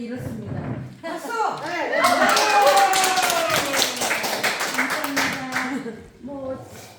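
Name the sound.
audience clapping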